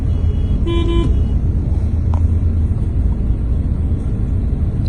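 Steady road traffic rumbles throughout in Saudi Arabia, with a short car horn toot early on and a brief higher beep a moment later.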